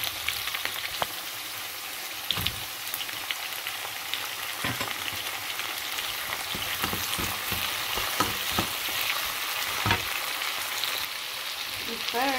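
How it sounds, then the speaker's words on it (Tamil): Onions and tomatoes sauté in a pan for an okra milk curry, giving a steady close sizzle with scattered stirring clicks and scrapes throughout. "வெங்காயம் வதங்கினோடனே தக்காளியை சேர்த்துக்கிறோம்."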